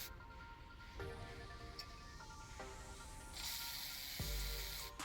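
A hand ratchet with a 13 mm socket clicks steadily as it turns the bolt at the bottom of the drive belt tensioner on a 2017-2022 Chevy Colorado or GMC Canyon 3.6L, with close, repeated pawl ticks and a brief louder clunk near the end.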